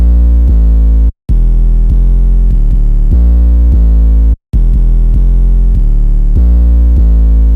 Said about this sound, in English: The 808 sounds like this.